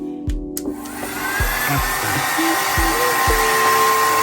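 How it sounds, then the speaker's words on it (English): A steady electric whir of a hair dryer runs continuously after a few brief clicks and knocks at the start, fairly close and constant. "we're going to get the hairdryer"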